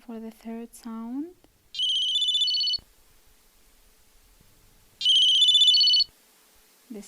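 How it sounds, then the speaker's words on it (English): A telephone rings in two bright electronic trilling bursts about a second long, separated by a pause; a voice speaks briefly before the first ring. "This is the sound of the telephone."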